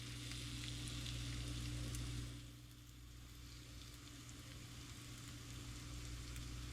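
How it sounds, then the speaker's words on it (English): Food sizzles steadily in oil in a small pan, a dense continuous frying hiss under a low hum that eases slightly partway through and keeps going without pause. "we're just going to fry these a little bit in here until they're caramelized"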